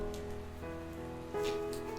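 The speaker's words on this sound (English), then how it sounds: "Stupid Rain." Rain falls steadily on a surface, a soft continuous patter with scattered louder drops, heard over a low background hum with no talk.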